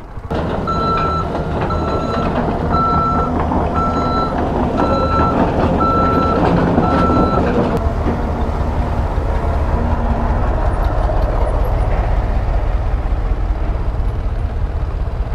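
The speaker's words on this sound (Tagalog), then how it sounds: "meron na tayo nakikitang mga equipment na nagkukumpuni dito sa kalsada" Road repair machinery working on a road between Cagayan de Oro and Manticao: a loud, regular reversing beep repeats for about half the time over a heavy, close engine rumble that continues after the beeping stops.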